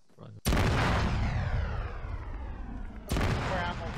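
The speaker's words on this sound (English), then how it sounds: "I'm gonna blow it up." An anti-aircraft pit is blown up in Arma 3: a sudden heavy blast booms out and rumbles away, followed moments later by a second loud detonation, close and powerful.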